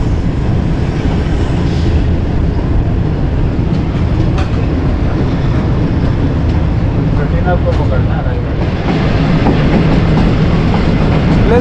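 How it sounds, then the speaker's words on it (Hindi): 28 Down Shalimar Express train running at speed after leaving Kot Lakhpat station, a loud continuous rumble with rhythmic wheel clatter, heard from inside the moving train. "28 डाउन शालीमार एक्सप्रेस ने जो है वो कोटलप्पा रेलवे स्टेशन को छोड़ दिया"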